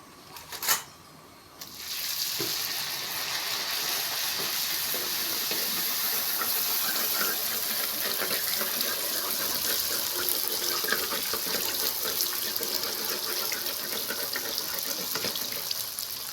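Phuchka puris deep-fry in hot oil in a village kitchen, after a brief knock the frying starts as a loud, steady, close hiss that holds unbroken for the rest of the stretch, with no one talking.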